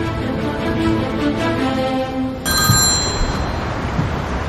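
A telephone rings loudly in a TV drama scene, with a sustained electronic trill that cuts off and gives way to a brighter tone, close and clear with no talking.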